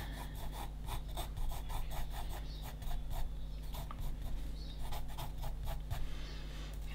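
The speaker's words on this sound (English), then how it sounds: "hold the pencil back a little further just to kind of be able to get those bigger strokes" Pencil strokes drawn quickly across paper, laying down loose random lines for hair on a child's face in side profile; a steady run of short, scratchy rubbing strokes in a close, quiet setting with no talk.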